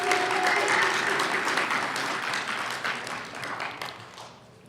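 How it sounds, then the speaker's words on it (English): Applause from a high school equivalency graduation audience, a dense crowd clapping loudly at first and slowly tapering off over a few seconds. "how about we give them a round of applause?"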